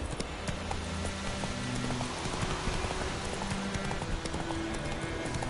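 Hooves of Roach, a horse in a fantasy video game, gallop in a steady clip-clop rhythm, mixed with rain-like ambience and game sounds.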